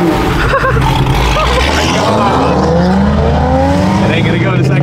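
A Ford Mustang S650 engine revs up to 5,000 RPM, a loud, close roar that climbs steadily in pitch with some tire noise, while voices are heard in the background.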